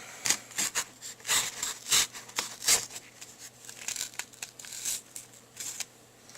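Packaging for a micro SD card being cut and torn open, with a series of scraping, rasping and crinkling bursts, close and moderately loud, and no talking.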